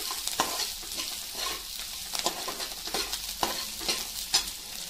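A spoon stirs a paste frying in a pan, with repeated scraping strokes at an irregular rhythm over a steady close sizzle.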